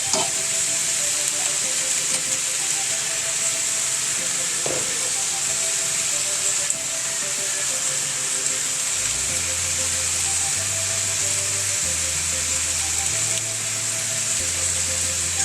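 String beans sautéing in a pan for Waray-style ginisang sitaw, a steady close broadband sizzle running throughout with faint background music tones underneath.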